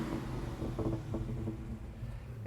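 The 2015 Dodge Challenger SRT Hellcat's supercharged engine idles with a low, even rumble, faint and uneven, with a few brief pulses rising out of the steady drone.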